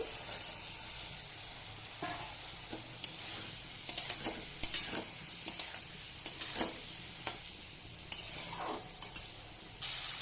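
Spice paste sautéing with fried okra and potato for a fish curry, a steady sizzle punctuated by sharp spatula clinks and scrapes against the pan in irregular bursts, close up with no talking.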